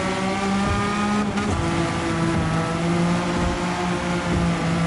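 A race car engine in Gran Turismo 7 drones loud and steady at close range, its pitch shifting as it drops to third gear, with a brief scrape partway through.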